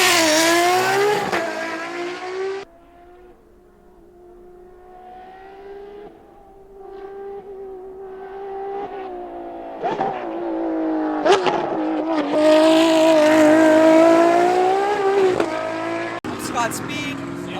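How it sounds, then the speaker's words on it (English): Ferrari 599XX race car at a motorsport event, its engine note rising and falling through sustained revving and gear changes, loud and close, with a brief lull before the roar builds again and a voice talking briefly at the start. "I'm driving this Ferrari 599XX by GT Motorcars."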